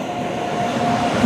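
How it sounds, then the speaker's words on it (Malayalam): A weekly superfast express train from Indore to Kochuveli passing on the opposite line, a steady close rumble of wheels on rails with a faint high tonal whine. "ഓപ്പോസിറ്റ് ലൈനിൽ Kochuveli, Thiruvananthapuram north indoor weekly super fast express കയറി വരുന്നുണ്ട്."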